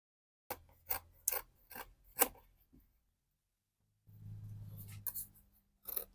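Scissors snip through dress fabric in a quick series of crisp cuts, then a short rubbing pause before a few more snips, close and fairly quiet with no talking, while an A-line dress is cut from its pattern.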